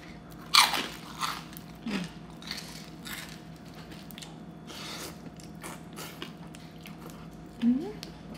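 Crunchy fried pork rinds eaten alongside spicy Thai rice noodles in curry sauce are bitten and chewed up close, giving a series of sharp crackling crunches spaced out over several seconds.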